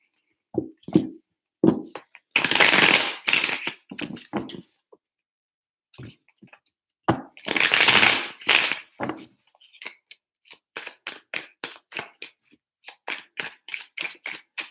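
Tarot cards are shuffled in quick bursts of riffling and slapping, with soft clicks and taps in between, close up.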